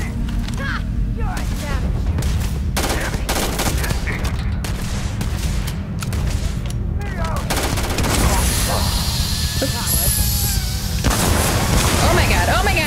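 Rapid gunfire in the video game Starfield, dense bursts of shots and booming impacts crowding the whole stretch, loud and close, with heavier sustained firing toward the end.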